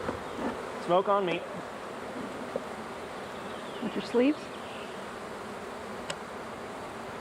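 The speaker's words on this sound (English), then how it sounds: "Bees are not happy now" Agitated honeybees buzz around an opened, queenless hive during an inspection, a steady hum close by with a few louder passes near the microphone. People talk briefly over it.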